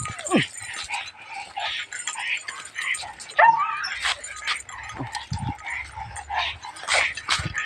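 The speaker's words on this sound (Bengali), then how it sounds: "কুকুরটার বিরাট রাগ" An angry foreign-breed dog barks and whimpers at a local dog in short, uneven bursts, close and fairly loud, with other animal cries mixed in.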